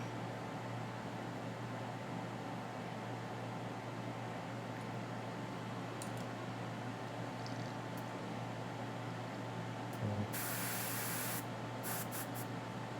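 Airbrush spraying paint on a Kingdom Death Dung Beetle Knight miniature, a steady, close, hissing spray that holds for the whole stretch, with a brief sharper burst of air near the end.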